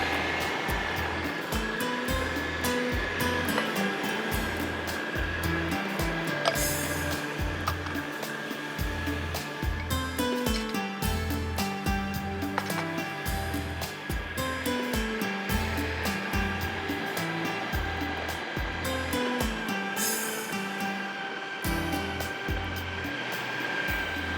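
A kitchen food chopper runs on high speed while mixing ingredients for saffron vermicelli, giving a steady, loud motor whir with a pulsing, churning low rhythm that continues throughout, with no talking.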